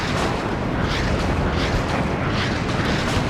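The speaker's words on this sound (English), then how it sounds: "And then you guys are seeing our artillery coming in now." Artillery shells exploding in the war strategy game Warno, a continuous dense rumble of overlapping blasts and booms, loud and sustained with no clear gaps and no talk.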